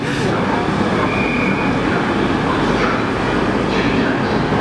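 A train rumbles loudly and continuously nearby at Winchester Station, a broad roar of wheels and carriages with a faint squeal, filling the station with constant noise.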